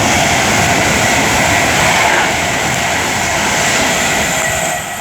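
A Pendolino class 390 electric train rushes past at Tamworth on the West Coast Main Line, a loud, close, sustained roar and rumble that holds for several seconds before easing slightly at the end.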